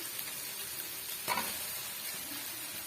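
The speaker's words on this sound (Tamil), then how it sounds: "இப்ப இந்த ஸ்டேஜ்ல நம்ம வாஷ் பண்ணி எடுத்து வச்சிருக்க சிக்கன் பீஸுகளை சேர்த்துடலாம்" Washed chicken pieces going into a hot pan of sautéed onion, tomato and ginger-garlic masala for Chettinad chicken varuval, giving a steady close sizzle with one brief louder clatter partway through, no talking.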